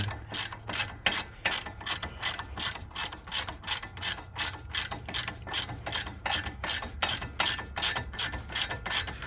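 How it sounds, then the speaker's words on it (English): A DeWalt 3/8 inch 20 volt power ratchet at work on the front hub and wheel bearing of a 2008 Hummer H2, giving a loud, close, rapid string of evenly spaced mechanical clicks that carries on throughout with no speech. "I've got a little DeWalt 3/8 power ratchet"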